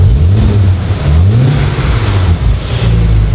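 A Toyota Supra with a single-turbo conversion and aftermarket exhaust revs loudly up and down close by, a deep droning engine note rising and falling over a few seconds.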